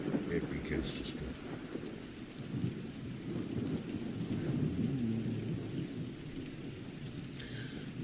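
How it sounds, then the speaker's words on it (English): A thunderstorm with steady heavy rain on surfaces and low rolling thunder, continuous and fairly loud throughout, with no voices over it. "The rain begins. You start to hear the thunder as it begins to storm."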